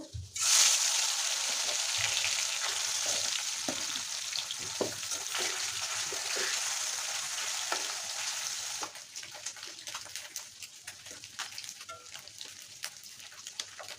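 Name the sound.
eel fish frying in oil in a wok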